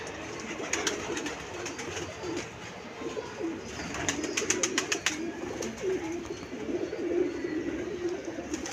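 Pigeons coo in a soft, low murmur against a busy outdoor backdrop, with a burst of flapping wings partway through.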